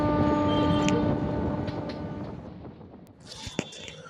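A passenger train rolling into Purulia station in the morning: a loud, steady rumble of wheels with tonal hum that fades and thins toward the end, then a few sharp knocks and clanks.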